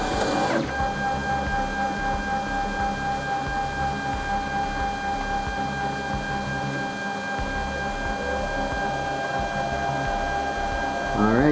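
A Robo 3D R1 3D printer runs a print at a medium 0.2 mm layer setting, its stepper motors giving a steady whirring drone with high tonal whines, sustained and fairly loud with no talk.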